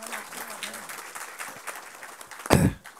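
Audience at a BJP political joining event applauding, a modest crowd clapping under and after a speaker's voice, ending with a sharp loud burst near the close.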